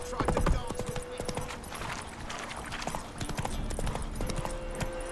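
Hoofbeats of the horse Roach in The Witcher 3, an uneven clip-clop of steps with a brief snort or whinny, heard under background sounds and a voice talking.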